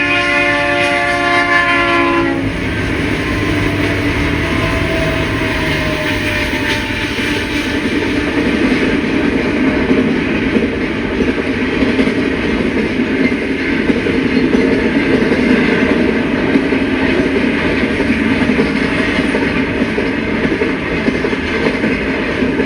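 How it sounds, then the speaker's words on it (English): An eastbound Conrail run-through freight train passes CA Junction on the Santa Fe line, opening with a loud horn blast, then a long, steady roar of wheels and railcars rolling by close at hand. "an eastbound Conrail run-through flies through CA Junction"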